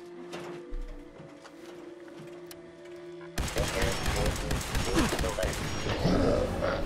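A burst of gunfire in the video game Fallout 4 erupts after a quieter stretch, with rapid shots and impacts continuing loudly to the end.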